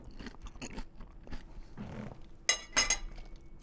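Someone eating a tangerine with a fork, with quiet, close bites and chewing and a few sharp clinks of the fork near the end.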